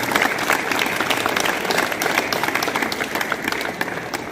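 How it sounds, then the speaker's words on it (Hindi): Loud, vigorous applause at a college reception honoring student boxing medal winners, dense crowd clapping that stays strong and even throughout without talk. "एक बार जोरदार तालियां बच्चों के लिए।"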